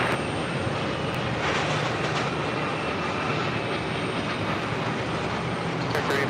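An Amazon Air Boeing 767-300 arriving from Cincinnati lands on runway 4 right at JFK, a loud, steady, continuous jet roar that holds without a break throughout, with no talking over it.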